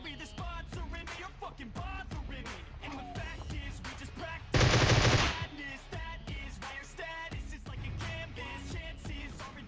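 Gunfire from a PUBG Mobile match: a rapid series of sharp shots runs throughout, with one louder, dense burst near the middle standing out over the steady firing.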